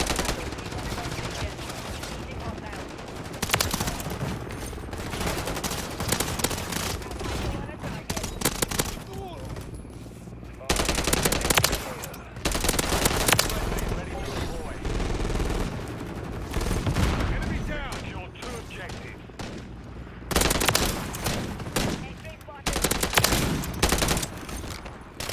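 Machine gun fire in a Modern Warfare 3 match comes in repeated loud bursts of rapid shots, pausing and resuming over background battle noise.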